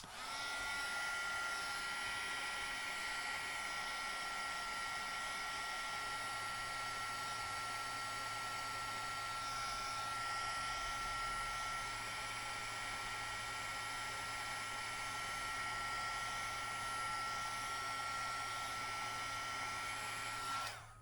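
A hair dryer blows steadily and loudly for about twenty seconds, drying an ink wash painting made with water brushes, a constant airy whir with no pauses.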